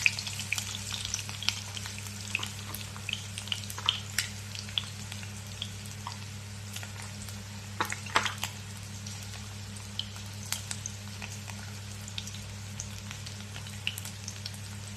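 Whole tomato and onion pieces sizzle and crackle in hot oil in a pan, a steady close frying hiss with scattered pops and spits throughout, no voices.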